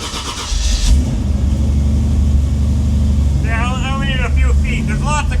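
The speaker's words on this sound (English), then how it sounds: "we'll just get this thing going" A close pickup truck engine starts and settles into a steady running idle, while someone talks over it in the second half.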